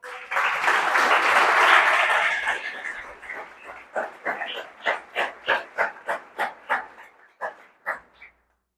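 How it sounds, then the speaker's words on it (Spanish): A church congregation gives a loud round of applause during a Spanish-language sermon: a dense, steady wash of clapping that thins into separate, rhythmic bursts of claps toward the end. "¿Cuánto puede brindarle un fuerte aplauso al Señor?"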